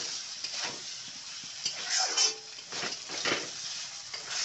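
Fried potatoes being mixed with spices and tomato in a pan, with a soft sizzle under irregular scraping and stirring strokes, close and fairly quiet, with no voices.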